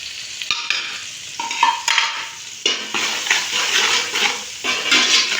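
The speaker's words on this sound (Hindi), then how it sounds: "ये सारी चीज़ें फ्राई करूँगी, इसके अंदर थोड़ा सा।" Green chillies with turmeric, mixed masala and salt fry in a pan, with bursts of sizzling and scraping stir strokes rising and falling in loudness up close.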